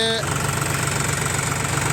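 A John Deere 5039 B Power Pro tractor engine runs at a steady 900 rpm, giving a continuous low, even drone with a faint rhythmic throb, close and fairly loud.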